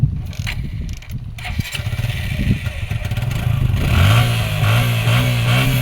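A motorcycle with a mechanical fault clatters and idles nearby, then revs up into a louder sustained engine drone, with voices briefly in the background.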